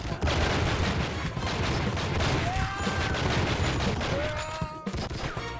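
Rapid gunfire fills a chaotic shootout in the video game True Crime: Streets of LA, with dense overlapping shots, booms and crashes continuing loudly throughout and brief whistling tones above.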